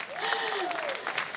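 An audience at an outdoor evening concert in Piazza Manzoni, Jesolo, claps in a steady, fairly soft wash of applause, with a voice speaking over it.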